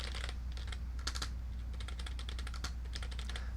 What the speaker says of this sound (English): say I were to just keep typing.